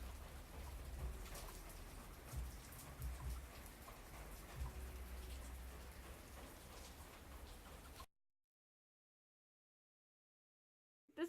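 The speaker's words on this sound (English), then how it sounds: "A sudden and very alarming, strong storm." Rain from a sudden strong storm falls steadily outdoors, a broad, even hiss with a few heavier drops, before cutting to near silence at the end.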